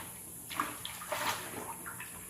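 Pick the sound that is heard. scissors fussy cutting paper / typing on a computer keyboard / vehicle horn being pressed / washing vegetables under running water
washing vegetables under running water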